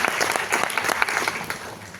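An audience applauds the host at an event, a brisk burst of many hands clapping together at moderate loudness, lasting a couple of seconds with no voices over it.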